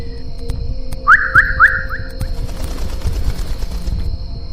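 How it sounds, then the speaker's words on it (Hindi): A sharp, loud whistle blown in a few quick rising chirps, repeated about four times, over a steady low background hum. "वो आदमी ने जोर से एक सीटी बजाई"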